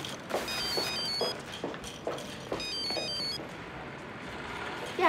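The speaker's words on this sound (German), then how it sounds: "Telefon." A telephone rings in two repeated electronic bursts of high, warbling tones in an indoor scene, fairly close and clear, followed by quieter room ambience and a faint click at the end.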